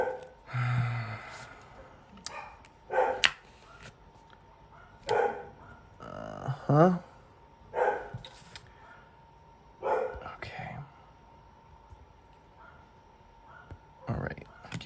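Several dogs barking in short bursts in the background of a home nail-stamping session, a few yips here and there between stretches of quiet, with occasional speech nearby.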